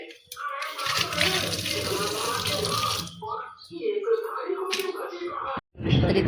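Water runs from a household tap over a kitchen knife in a village home before a raw mango is cut, a steady splashing rush that holds for a few seconds and then breaks off, with a voice nearby.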